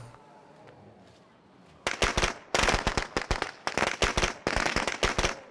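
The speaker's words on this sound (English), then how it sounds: "Step 2 is to draw the infestation out with firecrackers." A rapid string of sharp firecracker pops in the video game State of Decay 2 bursts out after a quiet stretch, crackling loudly in irregular clusters and continuing to the end.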